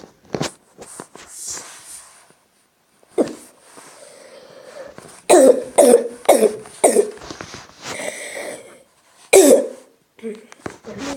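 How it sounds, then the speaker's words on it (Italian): A young man coughs repeatedly in close, loud bursts, a cluster of harsh coughs in quick succession with another fit a little later, mixed with some speech and quiet pauses. "Che tosse che ho una tosse"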